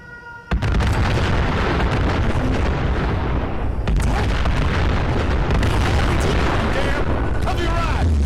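Gunners firing weapons with booming explosions in Fallout 4, a sudden loud onset followed by continuous heavy blasts and gunfire, with sharp cracks punctuating the dense roar.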